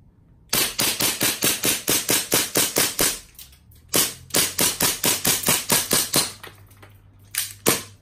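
A Glock 34 gas blowback airsoft pistol, a custom Taiwanese WE model, fires in quick, sharp snapping bursts of about a dozen shots each, with a short pause between volleys and a final few shots, close and loud.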